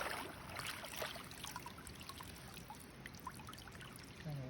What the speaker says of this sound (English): And I'm just rinsing.